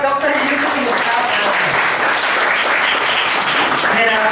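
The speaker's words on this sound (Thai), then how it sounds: "ปรบมือให้กับดร. ยงยุทธ เพื่อนสมุนครับ" Audience applause fills a lecture hall at an Amway business seminar in honour of a guest, steady and dense for the whole span, with a voice faintly audible over it.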